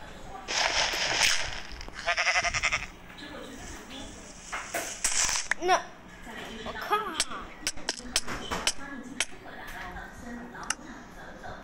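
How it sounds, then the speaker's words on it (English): Sheep bleating in a Minecraft one block survival game, several short wavering bleats scattered among clicks and other game effects, moderately loud with no speech. "I'm not letting you go down, sheep."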